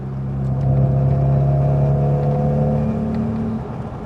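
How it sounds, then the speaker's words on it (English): An MG Midget sports car with a Lenham Le Mans GT body drives along steadily with its noisy gearbox, giving a close, loud, steady engine drone with a humming gear whine that slowly swells and fades, with no talk. "old cars tend to have a noisy first gear, but this has got a noisy 3 gears"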